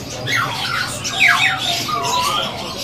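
A female magpie robin in a bird shop gives a string of sharp, squawking chirps and whistles up close over steady background noise.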